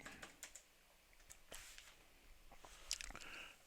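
Keys clack on a computer keyboard as a search term is entered in a web browser, a quick run of close, crisp taps with short pauses, some strokes sharper than others, and no talking.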